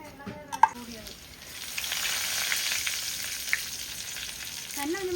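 Ingredients for a mackerel fish curry sizzling in a pan, a steady frying hiss that swells after a few clinks and scrapes of a utensil at the start, close and continuous.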